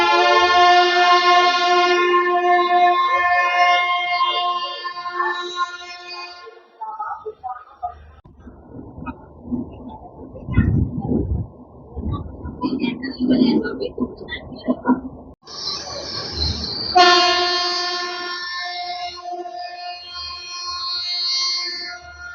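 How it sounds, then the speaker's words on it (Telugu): A passenger train pulls out of Visakhapatnam junction toward Araku in the monsoon season, a steady rumbling run of wheels and carriage noise heard between stretches of talk at the start and end. "సో 7 గంటలకు బయలుదేరాల్సిన మన ట్రైన్ వచ్చేసరికి 7:20 అయితే స్టార్ట్ అయింది."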